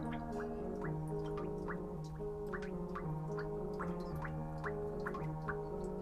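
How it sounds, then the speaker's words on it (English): Water drips steadily from a garden hose behind a house, irregular plinking drops falling over a constant low gurgling flow, close and fairly loud with no voices. "The sound of the hose dripping from the back of the house burns into my mind."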